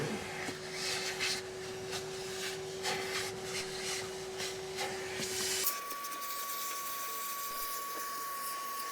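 Giraffe Tools retractable vacuum running with suction on, a steady whirring hum with rubbing noise that shifts abruptly to a cleaner, higher tone partway through.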